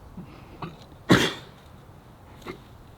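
A horse gives one loud, sharp cough in an outdoor arena, with a couple of fainter coughs or snorts before and after it.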